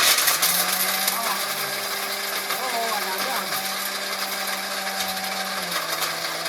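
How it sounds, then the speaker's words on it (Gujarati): An electric mixer grinder grinds hard lumps of asafoetida into powder, its motor giving a steady, loud whirring drone with a rattling, gritty edge that runs continuously throughout. "તો હાલો હવે આપણે મિક્સરમાં ને ચડાવીએ."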